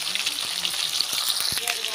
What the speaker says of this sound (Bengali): এবারে আমি এই পিঠটাও খুব ভালো করে ভেজে নেব।